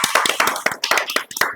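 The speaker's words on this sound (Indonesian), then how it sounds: "Tepuk tangan untuk kita semua dulu ya." A room of university lecture attendees claps together, several distinct, sharp rhythmic bursts of hand clapping close by, with no talking.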